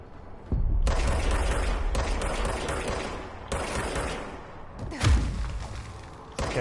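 A recharging weapon firing in the video game Control: several heavy bursts of rapid shots with booming thuds, loud and close, separated by short pauses.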